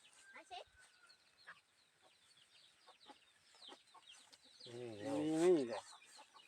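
Chickens cluck softly in short bursts, then one bird lets out a louder, drawn-out call near the end, with faint background chatter.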